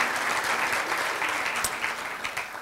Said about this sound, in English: I would love another round of applause for Sheila Stevenson, Rochelle Ostrom, and Debbie Bancroft, our chairman